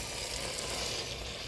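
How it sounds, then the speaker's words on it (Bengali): Chicken curry is stirred in a clay pot over a wood fire, making a close, continuous frying sizzle with a soft hiss for a brief moment and no voices. "ভালো করে নাড়াচাড়া দিয়ে নিলাম"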